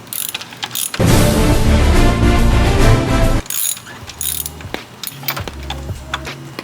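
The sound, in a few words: ratchet wrench removing a Dodge spark plug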